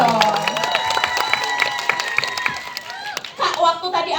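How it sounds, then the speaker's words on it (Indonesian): Audience clapping and cheering at a film press conference for the horror film Kutukan Sembilan Setan, a dense, steady burst of applause rising again near the end, with voices and chatter mixed through it. "Tepuk tangan dulu dong."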